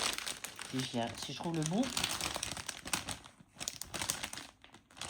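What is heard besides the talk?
unwrapping crinkly packaging of new colours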